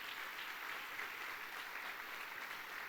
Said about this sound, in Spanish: Dele un fuerte aplauso al Señor nuestro Dios